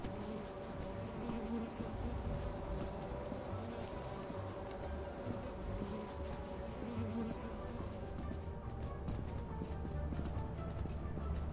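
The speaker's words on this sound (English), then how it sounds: "No, oh, there's two bee's nests." Bees swarm around two nests inside the video game Lethal Company, a steady, dense insect drone filling the scene continuously with faint game noises mixed in.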